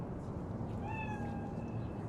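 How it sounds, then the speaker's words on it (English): A cat in Cyberpunk 2077 gives a single drawn-out meow at mid-distance, riding over a steady, noisy city ambience with no one talking. "Chill, just a cat."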